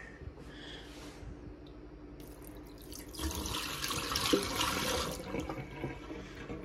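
Water runs from a tap to rinse an object, a steady broadband splashing that starts softly and grows louder and fuller about halfway through.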